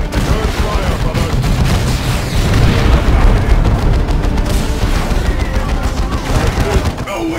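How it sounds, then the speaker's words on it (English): Grenades and gunfire erupt in a dense, loud Warhammer 40k Dawn of War 2 Chaos Rising battle, with continuous booming explosions and rattling shots layered over shouted combat voices. "Put a grenade on that target."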